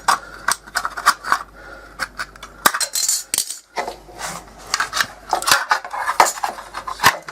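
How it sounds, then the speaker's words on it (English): Very old tin snips trimming metal on a trailer give sharp, close metallic snips and clanks in an uneven rhythm, with a few brief pauses between bursts of cutting and no speech. "So I'm using a pair of tin snips."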